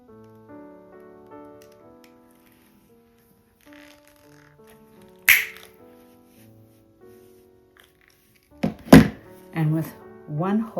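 A hole punch clicks sharply through bias tape once, followed moments later by a few more quick handling thunks, with soft humming tones in the quiet background.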